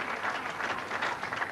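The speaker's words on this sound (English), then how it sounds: "the crowd appreciating the work that he's done" Spectators at a 1991 snooker stepladder match clap for a shot in a soft, steady patter of applause, fairly distant and quiet throughout.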